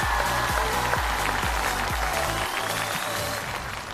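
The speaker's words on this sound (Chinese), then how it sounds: "掌声再次送给我们翟佳宁。" A studio audience at a stand-up comedy show applauds steadily for a comedian, a dense wash of clapping carried over a loud, regular thumping music beat throughout.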